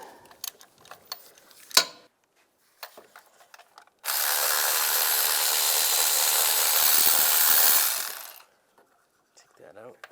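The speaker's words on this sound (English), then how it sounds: "Now taking a 16mm socket, we can access the bolt for this mount. Loosen that up." A 16mm socket loosens a mount bolt on a 1999-2005 Volkswagen Jetta: scattered clicks and taps, then a steady four-second whirring run that stops abruptly, close and moderately loud.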